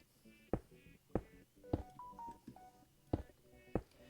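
A smartphone notification: a short, faint pair of electronic beeps stands out midway among regular, sharp clicks.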